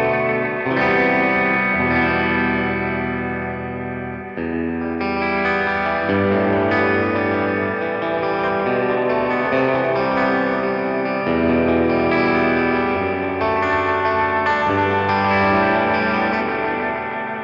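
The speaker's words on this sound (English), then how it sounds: "I'm kind of washing it in a delay right there, but it just sounds so great. It's just that classic Space Echo sound, just dirty and gritty" A Boss RE-202 Space Echo pedal washes sustained, gritty played notes in dense delay repeats and echo, a continuous layered wash of tone with no voices.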